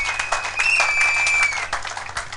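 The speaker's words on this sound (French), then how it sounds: "Acclamons pour la gloire de notre Dieu" A church congregation applauds, a dense, sustained burst of many hands clapping with a long electronic tone running through it, the clapping thinning out toward the end.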